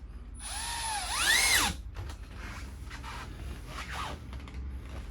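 A power drill drives sharp screws into raw plywood with a loud whining burst that rises and falls in pitch, followed by quieter scraping and a short second whir, close up with no talking.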